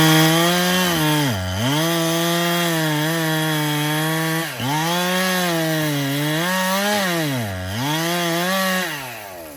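A chainsaw runs steadily while cutting through the back of a tree trunk to fell it, loud and close, with its engine pitch dipping sharply three times as the chain bogs into the wood before revving back up.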